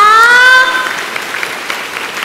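Audience applause at a welcoming ceremony in a Taiwan temple: a steady wash of clapping that follows a brief tonal sound at the start, then continues evenly at moderate loudness.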